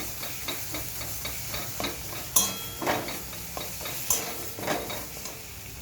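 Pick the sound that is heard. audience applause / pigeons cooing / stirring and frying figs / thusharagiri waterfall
stirring and frying figs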